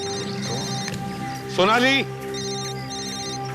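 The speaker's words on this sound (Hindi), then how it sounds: "मोबाइल फोन भी वहीं से बज रहा है" A mobile phone rings with a brief warbling electronic tone at mid-distance, sounding once amid a tense search scene, while a voice calls out a name over steady background hum.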